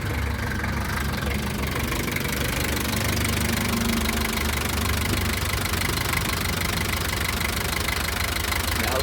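A 1984 Toyota Land Cruiser diesel engine runs at idle after starting, with a dense, rough, knocking clatter that holds steady and loud throughout at close range, with no voices.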